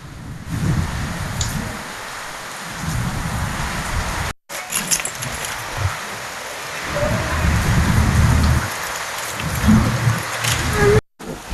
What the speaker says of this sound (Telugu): అక్కడ ముఖ్యంగా కీసర ఘట్కేసర్ మండలాల్లో ఉరుములతో కూడిన వర్షం పడుతోంది